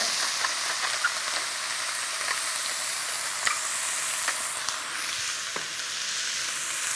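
Beef stroganoff sizzling steadily in a pan, a constant close frying hiss with scattered light ticks and scrapes from stirring, with no talking.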